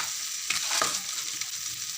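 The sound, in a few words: cabbage frying in a pan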